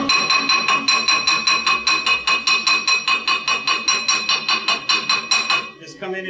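Hand hammer peening a fresh weld deposit on cast iron: a steady run of about thirty sharp, ringing metallic strikes in quick even rhythm, close and loud, stopping near the end.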